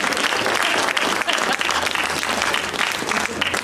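Dense, steady applause from an audience at a mayoral campaign speech in Niagara Falls, filling the whole stretch at close range without letting up.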